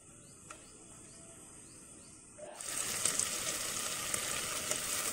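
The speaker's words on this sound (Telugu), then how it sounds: "ఇప్పుడు ఆ మిగిలిన నెయ్యిలోనే ఇది మొత్తం వేసేసుకున్నాం పేస్ట్" Beetroot paste hitting hot ghee in a pan for beetroot halwa, a soft steady background hiss that jumps into a loud, dense sizzle partway through and keeps crackling to the end.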